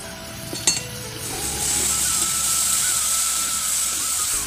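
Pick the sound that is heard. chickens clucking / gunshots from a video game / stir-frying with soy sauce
stir-frying with soy sauce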